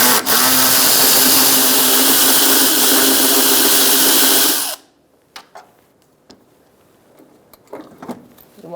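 A loud power tool whirs steadily while removing a bolt from a 2002-2006 Toyota Camry during windshield washer reservoir replacement, then cuts off abruptly, followed by faint clicks and handling noises.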